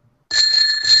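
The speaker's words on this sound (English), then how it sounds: "Can you ring the bell for me?" A bell rung once and left ringing, loud and close, sustaining with a bright steady tone for about a second after a short silence, during an online gaming talk show.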